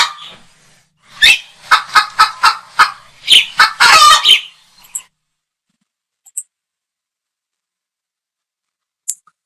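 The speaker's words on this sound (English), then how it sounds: "So this is chicken sound." Chicken clucks and squawks from a Filmora 9 library sound effect, a rapid burst of loud, sharp calls lasting a few seconds, then a few faint isolated clucks spaced out in near silence.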